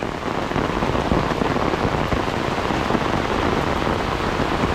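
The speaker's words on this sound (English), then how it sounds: "If it rains like this the whole day, our little creek down here really turns into a river." Heavy rain pouring down steadily near a creek, a dense constant patter and hiss of drops hitting surfaces, loud and unbroken with no talking.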